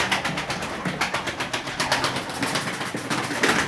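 Pigeons coo continuously nearby, soft throaty calls overlapping in a rolling rhythm without pause.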